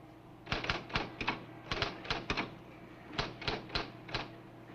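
Keys clack on a quiz machine keyboard in a series of sharp taps in two short bursts with a pause between, close and fairly loud over a low steady hum.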